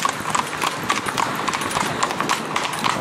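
Hooves of a driven horse in harness clip-clop in a steady, quick trot, close and clear, as the horse is about to break into a canter; the regular beats run throughout with faint background noise.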